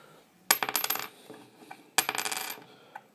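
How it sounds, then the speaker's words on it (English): Two copper U.S. cents drop onto a hard surface one after another, each giving a sharp, bright clink with a short bouncing, ringing rattle, close and clear in a quiet room. "That's copper. It's got that loud ring to it."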